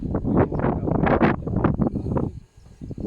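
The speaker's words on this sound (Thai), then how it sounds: "แต่ลมแรงมาก" Strong gusts buffet the microphone at the Mon Yiap Mekha 360-degree hilltop viewpoint among flower gardens and strawberry fields. The gusts come as loud, uneven rumbling bursts, then ease into a brief lull before picking up again.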